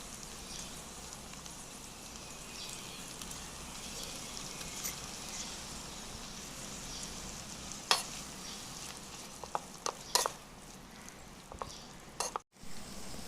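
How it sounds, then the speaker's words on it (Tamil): Chicken sizzles and fries steadily in a miniature pot for a chicken biryani, with mint and coriander already in, a constant crackle broken by a few sharp pops and stirring scrapes near the end. "அடுத்தது சிக்கன் ஆட் பண்ணிக்கலாம்."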